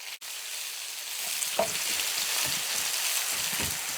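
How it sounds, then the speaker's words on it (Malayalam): Curry leaves, dried red chillies, small shallots, fenugreek and mustard seeds sizzle steadily in hot oil for a Kerala moru curry, a close, even frying hiss with a few soft pops and stirring scrapes, no voices. "എണ്ണ ചൂടായപ്പോൾ ഇതാ 2 മണി ഉലുവ കടുകിട്ട് കൊടുക്കുന്നു."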